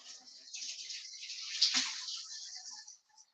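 Warm bone broth poured through a colander gives a steady, hissing splash of liquid for about three seconds, swelling midway and then trailing off into a few drips, close and alone.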